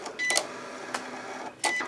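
A Cricut Explore cutting machine scores an acetate window treat box, its carriage giving short whirring motor runs with brief pauses between passes, close and fairly quiet.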